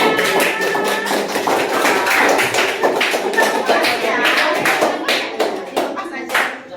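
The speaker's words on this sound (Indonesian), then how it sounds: "Tepuk tangannya." Dense, steady clapping from a classroom audience after a group's presentation during a teaching-practice session, close and lively for the whole stretch, thinning slightly toward the end.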